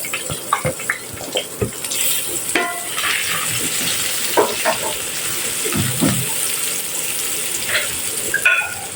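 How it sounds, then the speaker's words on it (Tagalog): Garlic sautéing in butter in a pan, a steady soft sizzle with scattered clinks and stirring scrapes, close and moderately quiet, with no talking over it. "Nagigisa lang tayo ng ating garlic."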